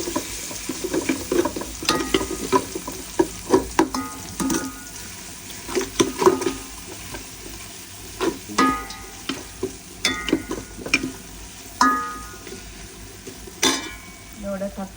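Sliced onions frying in a pan with ginger-garlic paste for mutton biryani, a steady sizzle broken by repeated scraping and clattering strokes of a stirring spoon, close and fairly loud.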